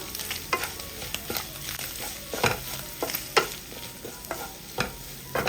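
Spiced chicken filling for mini chicken pockets, seasoned with garam masala, is stirred in a hot pan. Repeated spoon scrapes and clacks sound close over a soft, steady sizzle.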